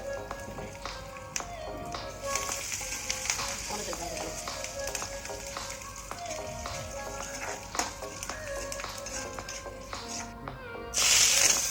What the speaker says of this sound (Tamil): அதில் கொஞ்சம் 2 ஏலக்காய், கொஞ்சம் வெங்காயம், கருவேப்பிலை, சோம்பு கொஞ்சம் போட்டுக்கிறேன்.